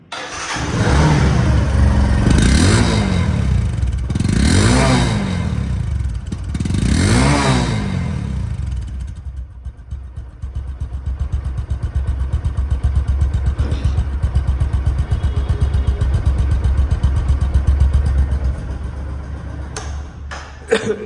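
A 175cc motorcycle engine starts and revs in a few rising bursts, then settles into a steady, loud idle that runs on alone.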